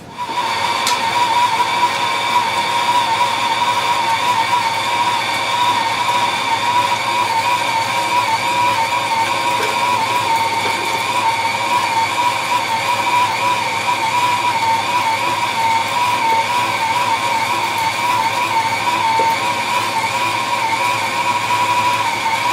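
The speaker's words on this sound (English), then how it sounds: "we're going to use this KitchenAid and we're going to use the meat grinder. We're going to grind our own meat." KitchenAid stand mixer with a meat grinder attachment grinding meat for burgers, a loud steady motor whine with a constant tonal hum that runs unbroken throughout.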